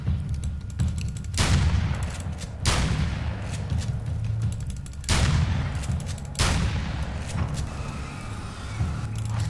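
Gunfire in the video game Alan Wake: American Nightmare, with four heavy, loud shot bursts spaced a couple of seconds apart over a low rumbling game backdrop.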